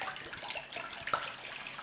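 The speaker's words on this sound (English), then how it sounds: "In there, I'm putting some water." Water pours into a cooking pan for a one-pan sausage and potato hash, a steady close splashing and trickling wash lasting under two seconds with no talk over it.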